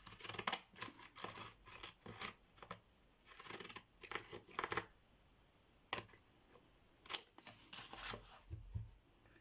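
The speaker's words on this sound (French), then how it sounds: "Avec le ciseau cranteur." Pinking scissors cutting a paper card, a quiet series of crisp snipping crunches in an irregular rhythm, heard up close with no talking.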